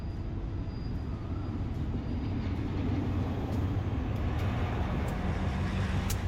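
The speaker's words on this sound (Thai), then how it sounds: "มีรถไฟผ่านมา ขบวนนี้ก็เป็นรถไฟที่มาจากภูตาหลวงนะเข้าหัวลำโพง" A train rumbles past steadily for several seconds, a loud continuous roll of wheels on rails with faint metallic clicks on top, on a line into Hua Lamphong station, Bangkok.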